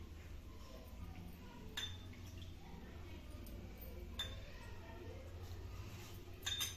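Ragi biscuit dough being stirred with milk in a bowl: a steady low hum underneath, with a few sharp spoon clinks against the bowl at irregular intervals.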